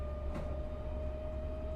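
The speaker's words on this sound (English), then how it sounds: "The train sounds like a Stuka." A train in a railway simulator game on the Czech Liberec to Stará Paka line runs with a steady low rumble and a sustained droning tone, heard alone at a moderate level.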